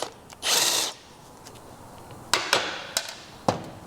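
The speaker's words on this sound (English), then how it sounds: "So here I'll get a 19mm socket on a nice impact right here." An impact wrench with a 19mm socket works on a vintage Vespa P200e engine: one short whirring burst, then several sharp rattling impact hits in quick succession, close and loud against a quiet workshop background.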